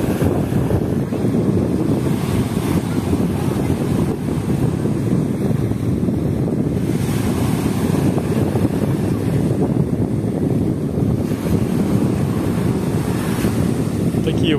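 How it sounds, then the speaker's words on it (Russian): Small sea waves wash steadily onto a beach in Turkey, a continuous surf hiss mixed with gusty wind buffeting the microphone, with faint voices now and then. "Такие волнушки не очень большие."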